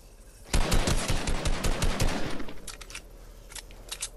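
Rapid bursts of automatic gunfire in a video game shootout, players firing at each other in dense volleys for about two seconds, then trailing off into scattered faint shots and echoes.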